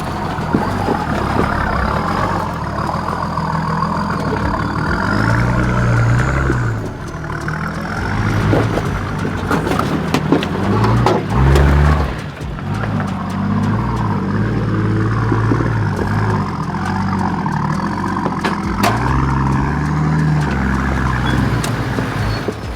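A Nissan GQ Patrol 4WD with 35s and twin lockers grinds along a wet forest track in Toolangi State Forest, its engine droning steadily with repeated low revving surges and scrabbling, close and continuous with no talk.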